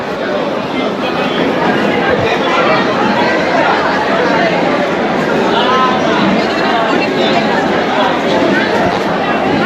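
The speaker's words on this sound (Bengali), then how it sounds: "শিয়ালদা স্টেশনে পনেরো নম্বরে ক্যানিং লোকাল দিয়েছে মনে হচ্ছে যেন সমস্ত মানুষই মানে সুন্দরবন যাচ্ছে বিশাল ভিড় বিশাল ভিড়" Dense crowd chatter fills a busy platform at Sealdah railway station in Kolkata, a steady loud wash of many overlapping voices with footsteps and movement, continuous throughout.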